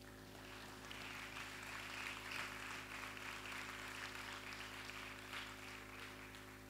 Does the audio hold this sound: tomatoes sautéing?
no